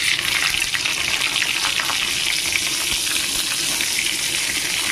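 Eggplant pieces fry in oil in a pan, giving a loud, steady, close sizzle that runs unbroken throughout, with no voices.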